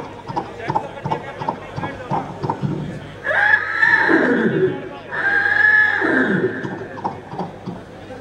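A voice imitates a horse, giving two long, loud whinnies in the middle of spoken comedy. Quick clip-clop-like clicks from the mouth come before the whinnies and again after them.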